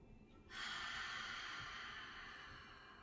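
A steady breath blown out through the mouth, close and soft, lasting a couple of seconds before slowly fading.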